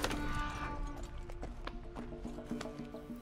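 Horse hooves clip-clop in a steady rapid rhythm in the Red Dead Redemption 2 video game, close and fairly loud over a busy game background, without talk.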